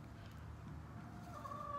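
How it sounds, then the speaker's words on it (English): A rooster clucks faintly in the distance over low background rumble, with a brief higher call near the end. "That's my rooster."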